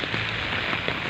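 Steady rain falls at home, a dense, even hiss of drops on surfaces filling the whole moment with no voices over it.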